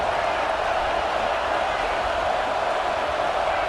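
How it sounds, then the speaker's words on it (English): A steady, dense stadium crowd roar in the College Football 26 video game during an Alabama vs Georgia SEC matchup, a continuous wash of massed noise with no breaks. "And here comes the noise. This crowd is trying to inspire this defense to make a big red zone stop."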